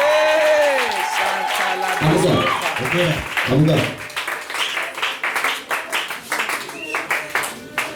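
A church congregation claps and cheers in praise of Jesus, with loud voices at first giving way to brisk, uneven clapping that grows more rhythmic, while someone speaks over it.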